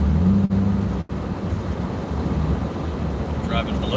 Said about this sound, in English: Driving below the speed limit for some reason